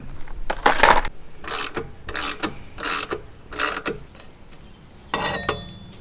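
A Harbor Freight pipe expander working inside an exhaust pipe on a Toyota AE86, making loud repeated ratcheting, grinding clanks in about six evenly spaced bursts close by.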